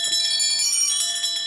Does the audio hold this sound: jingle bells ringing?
yes